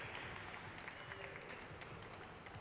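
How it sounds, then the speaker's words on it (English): A crowd at a glass museum applauding steadily, dense clapping at even loudness throughout with a faint murmur underneath. "and then a big round of applause"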